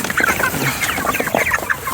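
Chickens in a chicken tractor cluck and squawk eagerly at feeding time, a busy, close chorus of overlapping clucks and calls with no talking.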